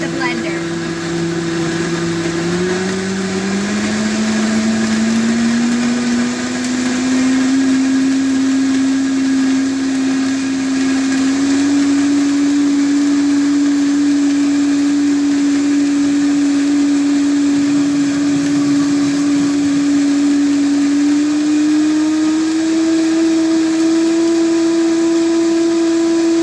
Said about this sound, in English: Once I stop the blender.